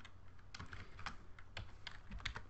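Code typed on a computer keyboard, a quick, uneven run of close, crisp key clicks with no talking.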